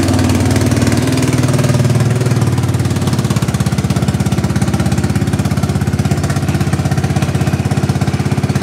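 Engine of a Yamaha Grizzly ATV that has sat unused for about a year and a half, with a transmission cable needing adjustment, running loud and close at a steady rough idle with a rapid pulsing chug.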